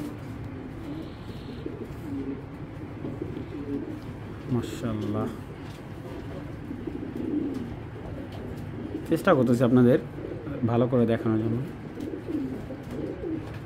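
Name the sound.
white racer pigeon cooing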